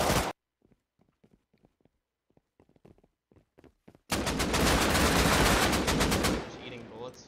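Automatic gunfire in Rust Console Edition: after a few seconds of scattered faint clicks and taps, a loud sustained burst of rapid shots lasts about two seconds, then fades into a rumble.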